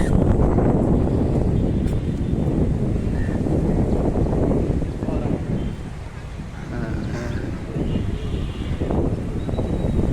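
Steady wind buffets the microphone with a low, rumbling roar throughout, varying slightly in strength.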